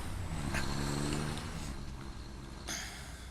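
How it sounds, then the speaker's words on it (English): A truck in the video game Satisfactory rumbles past, a steady engine drone with rising revs and a sharp hiss near the end, no talk. "So, here comes the truck behind me."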